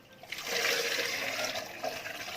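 Soaking water from dates pours into a blender holding a lemon, a steady splashing trickle that runs for about two seconds, close and fairly quiet.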